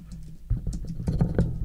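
Keys clack on a computer keyboard during a live stream, a few quick taps first, then a busier burst of close, uneven keystrokes over a low background hum.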